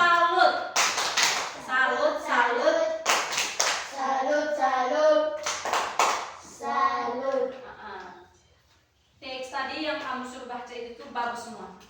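Young schoolchildren in an early-grade classroom performing the tepuk salut clapping cheer, sharp rhythmic hand claps interleaved with chanted voices, broken by a short pause before resuming.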